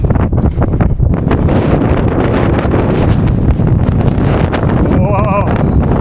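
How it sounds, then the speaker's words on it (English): Strong winter storm wind roars across an exposed slope on Mount Humphreys, a loud, constant buffeting rush battering the microphone throughout, with a brief voice near the end. "the wind's gonna be bad"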